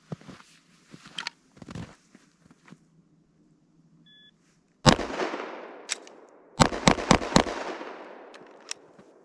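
A handgun fires five rounds from low ready in quick succession, sharp loud cracks closely spaced after a quiet lead-in with small handling clicks and a beep.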